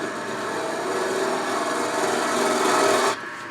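Continuous rasping, scraping sound of a lathe cutter working a spinning wooden jewelry box, steady and fairly close, then cutting off abruptly near the end.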